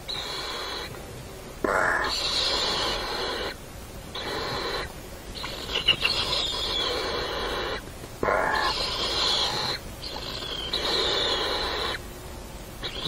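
Lidth's jay chicks in a nest in an Amami Island forest beside a walking path, answering a parent bird with repeated raspy, high calls in bursts of a second or two, separated by short pauses, fairly close and clear.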